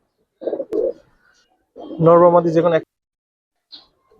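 Damascene pigeons give a loud, close coo with a rich harmonic tone, after two short soft calls and a click, with a brief faint call near the end.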